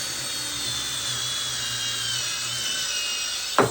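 A power drill bores into rawhide with a steady, close whine that holds for several seconds and ends in a sudden scrape and a clunk.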